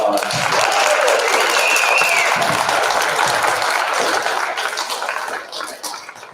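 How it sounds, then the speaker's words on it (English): An audience at a 7th and 8th grade school performance applauds, a loud, dense wash of clapping that holds steady before thinning out toward the end. "All right, let's give everyone one more round of applause."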